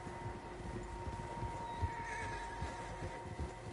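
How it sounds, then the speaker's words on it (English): Several horses in Red Dead Redemption 2 whinny and neigh over steady hoof clip-clops and a low outdoor ambience, close and clear, with no talking. "Horses, quite a few of them."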